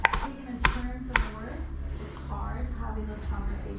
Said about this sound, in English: start chopping this up nice and fine